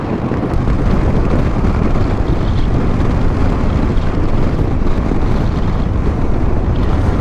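Honda CMX 500 motorcycle riding along a village road, a constant loud rush of wind buffeting the microphone over the low engine rumble, steady throughout.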